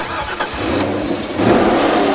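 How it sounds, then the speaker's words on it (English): A Dodge Viper RT10 V10 cranks and fires up, a churning start that swells into a loud, broad, close engine roar. "Let me start this up for you."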